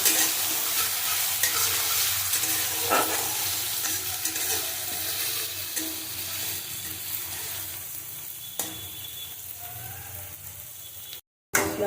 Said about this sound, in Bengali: রসুন আর পেঁয়াজটা দিয়ে দেবো এবং ভালো করে মশলাটা ভেজে নেব